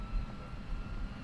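Airplane engines run at full throttle on the takeoff roll in a disaster film, a deep, steady rumbling roar, moderately loud, with no voices over it.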